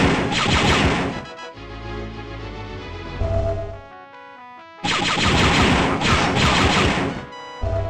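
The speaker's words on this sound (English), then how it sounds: "your blaster rifle" Rapid blaster rifle shots in Star Wars: Dark Forces, loud bursts of repeated zaps and crashes at the start and again near the end, with a quieter stretch of game sounds in between.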